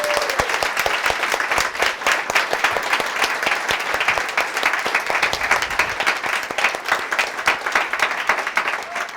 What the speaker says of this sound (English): can I get a whole round of applause for them, please?